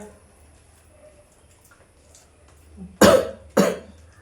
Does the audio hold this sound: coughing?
yes